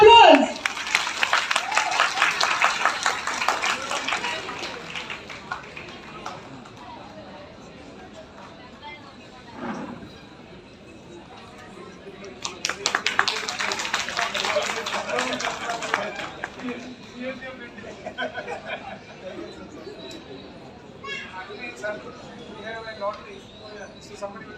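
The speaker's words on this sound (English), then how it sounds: "Give a big applause" An Onam programme audience in a community hall claps in two bursts of applause several seconds apart, and people talk, make announcements and murmur in the quieter stretches between them.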